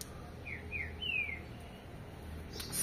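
A caged bird gives three quick, high chirps close by, the last one longer and sliding, over faint background hiss.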